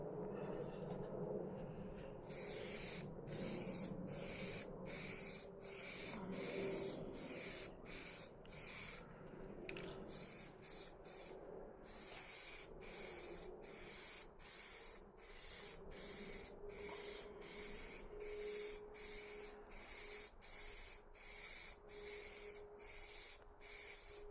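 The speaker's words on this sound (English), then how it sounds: "So this is the lid now, so we're going to spray the top section there first." An aerosol spray can coats the top section of a lid's casework in repeated hissing bursts with brief pauses between them. The close, steady spraying continues throughout, with no talking.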